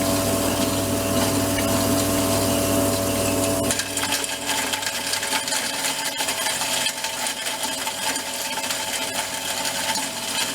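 A hammer rock crusher grinds gravel while prospecting for gold, a continuous loud mechanical clatter and rattle that shifts to a rougher, choppier grind partway through, with no talk.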